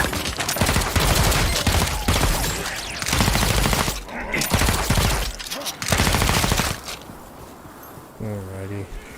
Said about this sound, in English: destroy watchtowers with my gun that shoots actual bullets